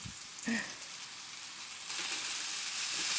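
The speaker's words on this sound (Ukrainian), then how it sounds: "обсмажуємо до золотавої скоринки" Minced meat patties fry in a pan over heat set above medium, giving a steady sizzling hiss that swells louder and fuller partway through, with no voices over it.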